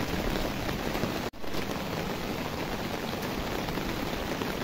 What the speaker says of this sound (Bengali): এখন তো অনেক বৃষ্টি হচ্ছে।